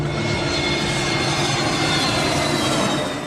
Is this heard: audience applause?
no